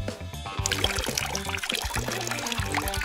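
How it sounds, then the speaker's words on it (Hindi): Water poured into a container for a children's science experiment, a continuous trickling and splashing stream close up, with faint background music underneath. "पहले आप इसमें पानी डालेंगे"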